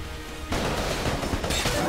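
Rapid bursts of gunfire in the video game Enter the Gungeon, with a dense barrage starting suddenly and crackling on loudly in quick succession, no talk over it.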